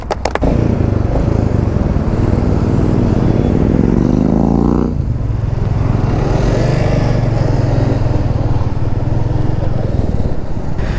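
Royal Enfield Meteor 350 motorcycles pulling away together for an off-road ride near a temple, their engines loud and close, with a rising rev at the start before they settle into a steady, continuous thumping drone.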